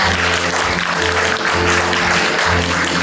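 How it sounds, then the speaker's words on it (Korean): Loud applause from an audience at a Korean Tuberculosis Prevention Day award ceremony, continuous and close, mixed with a low sustained hum or music underneath. "여러분 큰 박수로 축하해 주시면 감사하겠습니다."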